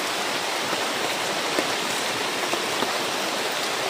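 Steady, dense rain pours down, a constant hiss with occasional louder drips standing out, no voices.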